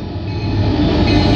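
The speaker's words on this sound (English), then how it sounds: "here it comes" Union Pacific locomotive pulling a yard freight train through Elk Grove at dawn: a loud, close, continuous rumble and roar of wheels and engine that builds steadily.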